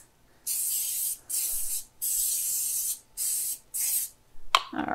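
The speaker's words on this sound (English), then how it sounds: "I like to use just a little bit of cooking spray just to ensure it's not gonna stick" Cooking spray hisses into a foil baking pan in five or six short, close bursts separated by brief pauses, ending with a light rustle of the pan.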